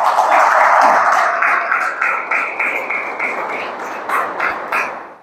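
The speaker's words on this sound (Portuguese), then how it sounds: "Vamos aplaudir o Senhor, aleluia." A church congregation applauds the Lord in a loud, dense wash of clapping that starts at full strength and slowly thins, with a few voices calling out over it.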